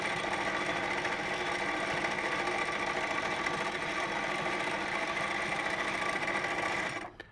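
A sewing machine stitches fabric held in a gripper hoop during free-motion quilting, humming at a steady, fast, even rate for about seven seconds before stopping abruptly at the end, close and alone.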